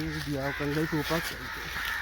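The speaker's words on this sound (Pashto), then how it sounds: "کارغان ډېر زیات دي بره په اسمان کې" Several crows caw overhead in a quick rhythmic series of harsh calls, fairly close and clear, with a voice talking alongside outdoors.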